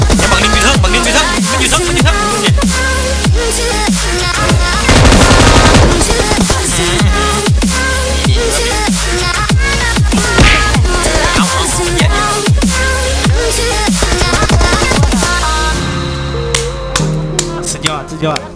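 Dense PUBG Mobile gunfire from a battle royale match, rapid bursts of shots over game music and effects, loud and continuous throughout, with sharp cracks standing out near the end.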